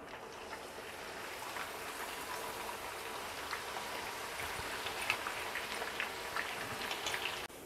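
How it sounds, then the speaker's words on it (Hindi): Onions frying in about two cups of hot oil in a pan for Hyderabadi nahari paya, a steady close crackle and sizzle like light rain with scattered sharp pops, on its own without voices. "यहाँ पर हमारी प्याज भी फ्राई हो रही है, इसे अच्छे से हम गोल्डन ब्राउन कलर आए तक फ्राई कर लेंगे।"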